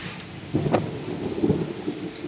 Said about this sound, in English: And a thunderstorm.